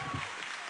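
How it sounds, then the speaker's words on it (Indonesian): Audience applause at an Indonesian stand-up comedy show, a dense, steady burst of clapping that fills the whole short moment at even volume. "Tepuk tangan untuk Adi."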